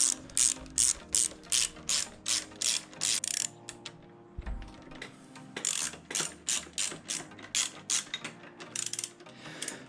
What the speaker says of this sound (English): Tighten them up a little bit, one by one.